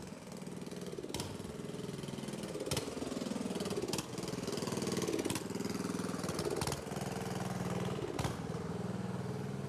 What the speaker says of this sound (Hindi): जनरेटर चल रहा है यहाँ पे अभी।